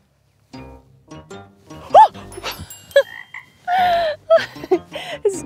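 A frog croaking in a meadow, with several short rising and falling croaks spread across the stretch and a longer, louder burst in the middle, some of them sounding almost voice-like.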